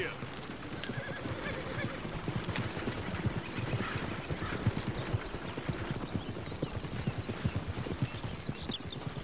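A horse gallops in Red Dead Redemption 2, with quick rhythmic hoofbeats and a whinny carried over a busy outdoor game soundscape while a voice talks.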